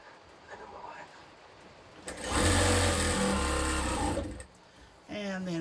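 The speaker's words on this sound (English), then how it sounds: "I'm going to sew this last one on." A sewing machine stitching the last shirt onto a memory quilt, a steady close whirring run of about two seconds between quieter handling sounds.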